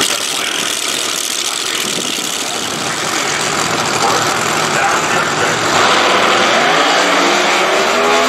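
Drag racing cars at Lucas Oil Raceway during the NHRA Summernationals, a continuous loud engine roar with a rising, revving tone toward the end.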